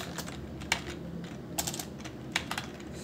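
Text being typed on a computer keyboard, a quiet run of light, irregular key clicks with a few sharper taps, close by and with no talking.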